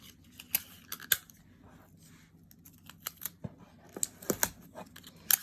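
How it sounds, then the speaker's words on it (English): Tape is pulled and pressed onto the side of a toilet paper challenge build, with close, irregular crackles, rips and snaps scattered through a quiet background; nobody speaks. "I want to tape it really well to the side so that it doesn't fall."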